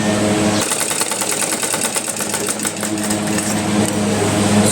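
A sewing machine stitches a blouse sleeve, its needle whirring in a rapid, even, close mechanical rhythm that runs loud and continuous after a brief quieter start.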